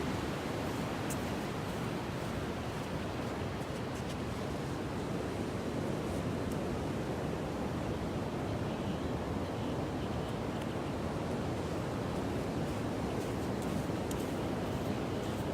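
Steady broadband wash of ocean surf on a sandy beach, continuous and fairly even in level with a faint windy hiss, no distinct individual wave crashes and no talking.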